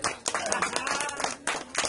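An audience at an indoor gathering claps its hands in a crowded, continuous burst with sharp peaks, moderately loud and lasting about two seconds.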